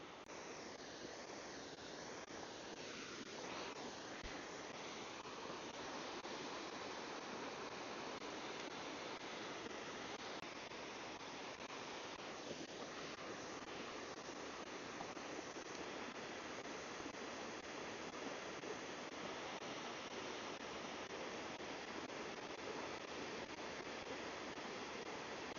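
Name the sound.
waterfall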